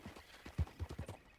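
Horse hooves clip-clop in Red Dead Redemption 2, a quick run of soft, low thuds at a trotting pace, faint and muffled, with no talking.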